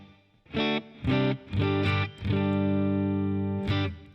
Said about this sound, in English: if you really want to have some reverb, I settled on a medium plate